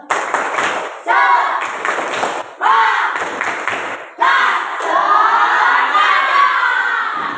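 A classroom of children does a patterned spirit clap in an Indonesian school lesson. Several bursts of loud rhythmic clapping come in unison with shouted chants, ending in a longer cheer.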